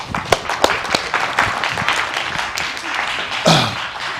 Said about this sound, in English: Give me a hand clap.